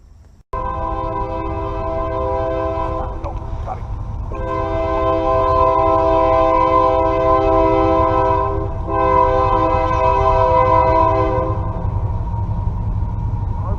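Train horn sounding in long sustained blasts with a brief break, over the steady rumble of a passing train nearby; no talk.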